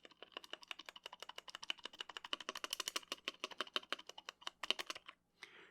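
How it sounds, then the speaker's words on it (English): Rapid typing on a Nuphy Halo 65 mechanical keyboard with a modded quiet spacebar, crisp clacky keystrokes in a quick steady stream with a few deeper spacebar thocks, close up and alone, ending abruptly. "here's what it sounds like with both of the things together."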